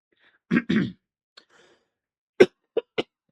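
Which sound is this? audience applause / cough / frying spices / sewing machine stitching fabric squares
cough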